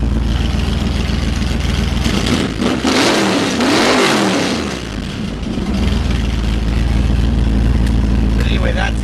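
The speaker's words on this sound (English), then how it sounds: "Then when you do the cutouts, listen to that." A 1965 Chevy Nova engine revs loudly with its exhaust cutouts open, a deep rumbling roar that swells and dips mid-clip before settling back to a steady throb; a voice talks briefly over it.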